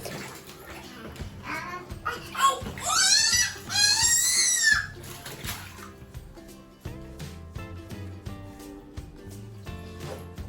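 A two-year-old toddler plays in bathwater in a tub, letting out loud, high squeals and shrieks over splashing water. A steady background tone runs underneath throughout.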